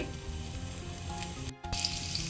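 Cumin seeds sizzle in hot oil in a pan, a steady soft frying crackle with a brief drop out near the end, no voices.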